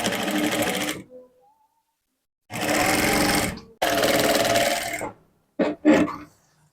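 Sewing machine stitching a one-inch allowance on a dress sleeve hem, in three loud runs of about a second each with pauses between, then two brief bursts at the end.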